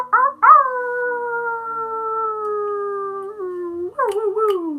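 A person imitates a wolf howl with a long, steady, sustained wail, followed by a rising yelp and short cries at the end; the voice carries clearly and alone.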